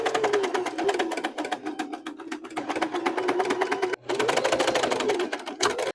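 A sewing machine runs in steady rapid bursts while stitching the collar of a dress, with a brief pause partway through before the motor resumes; the whirring is close and loud with no talking.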